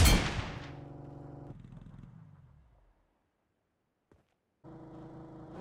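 PUBG video game gunfire: a loud blast that rings out and decays over a couple of seconds, a brief silence with a faint tick, then another loud burst of shooting.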